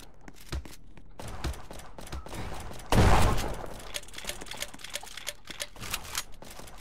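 Shotgun blasts ring out in close-range combat in Roblox: a heavy burst stands out amid a steady clatter of sharp, rapid cracks and impacts.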